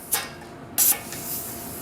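Compressed air hisses in short bursts through a male-female hose coupling on a Harbor Freight air setup, two sharp close spurts followed by a fainter lingering hiss.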